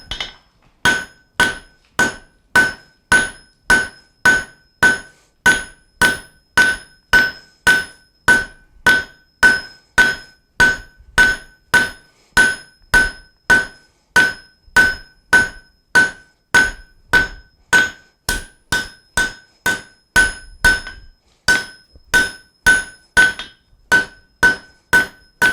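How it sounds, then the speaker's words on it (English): Hot steel hammered on an anvil to shape a fire poker: about fifty sharp, ringing blows fall in a brisk, even rhythm, close and loud, with a few brief pauses and no talking. "I'm actually going to start shaping it right now."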